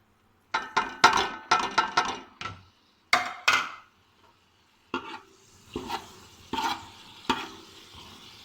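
Spices fry in hot ghee in a pot, heard as a series of clattering stirs and knocks against the metal over a faint sizzle, with short pauses between bursts; nobody speaks.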